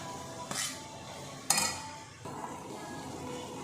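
Cooked rice is tipped into a pan of vegetables with soy and tomato sauce for veg fried rice, bringing a couple of sharp metallic clinks and scrapes of a spoon against the pan over a soft background hiss.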